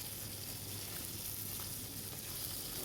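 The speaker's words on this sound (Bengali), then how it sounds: "আপাতত এই মাছটা আগে রান্না করে নামাই" Katla fish frying in a pan, a faint, even sizzle of hot oil held steady with no talk, heard from a little distance.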